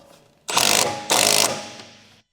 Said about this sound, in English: Using the 14 mm deep socket and impact wrench,